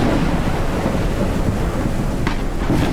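Thunderstorm in the Forever Skies video game, a loud, steady roar of rain and rumbling thunder filling the whole stretch, with a brief sharper crackle near the end and no talking.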